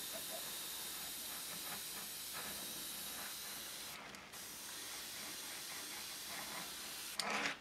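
A Paasche Millennium airbrush sprays steadily off a compressor set near 15 psi, making a continuous airy hiss that holds level for the whole stretch, with a brief sharper burst of air near the end.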